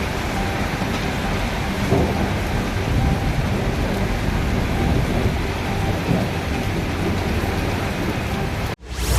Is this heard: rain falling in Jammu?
yes